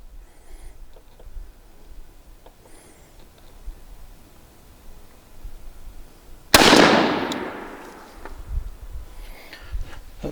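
A Tristar 20 gauge shotgun firing Herters TSS 9 shot loads at a 40-yard pattern test outdoors: a single loud, sharp blast whose echo decays slowly, preceded by quiet rustling ambience.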